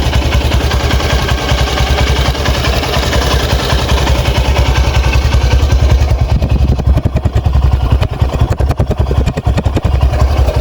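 Hero X-Blade DD ABS 2023 motorcycle engine idling close up, a steady loud low chug with rapid even pulses and a light mechanical clatter, running alone throughout.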